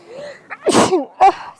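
A single loud, close sneeze bursts out after a short breathy intake, with a brief after-sound trailing it in a quiet room.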